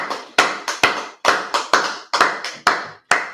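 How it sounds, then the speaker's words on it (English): An audience at a class claps in sharp, uneven bursts of loud, close hand slaps over about three seconds, with no talking. "Clap it up."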